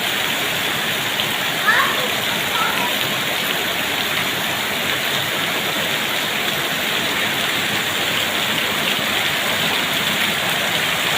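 Heavy rain pours down steadily and loudly throughout, a dense unbroken wash of falling water.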